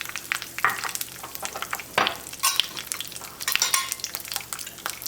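Dry and green chilies frying in a pan with a little salt, stirred so the spoon scrapes and clatters irregularly over a steady close sizzle.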